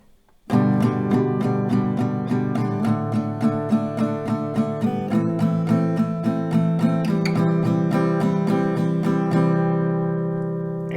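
An acoustic guitar is strummed in even, steady downstrokes, several per chord, with the chord changing every few seconds before ringing out at the end.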